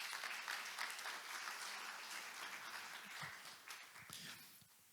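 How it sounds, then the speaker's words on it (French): Audience applause at a French church service for the KT Club teenagers' team, steady dense clapping filling the room at moderate level, gradually thinning toward the end. "je remercie toute l'équipe du KT Club, des adolescents, on peut les applaudir"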